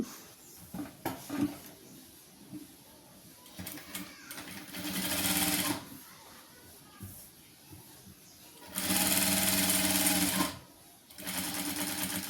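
Sewing machine stitching a churidar nightie with a high neckline, running in several bursts of fast, steady whirring, the longest near the end, close by with light handling noises between runs and no talk.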